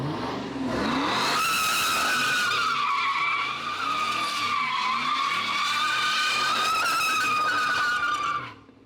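A car with broken power steering squeals its tires in a long, loud, sustained skid with engine revving underneath, close by, fading out at the end.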